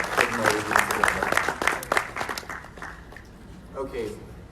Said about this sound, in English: Let's give them a resounding round of applause